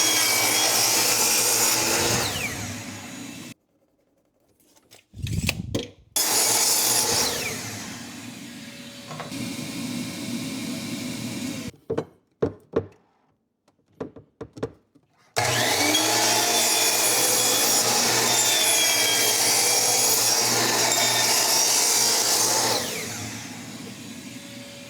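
A miter saw cuts narrower wood pieces in half and on the diagonal for French cleat shelf braces. Several loud, sustained whining cuts are separated by short gaps of quiet and clunks as the pieces are repositioned, with no talking.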